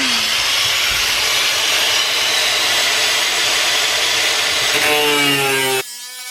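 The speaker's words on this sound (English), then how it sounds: "Cut it with the grinder." An angle grinder's cut-off wheel grinds off metal supports with a loud, continuous high-pitched whine at close range, then the motor winds down as the cut ends.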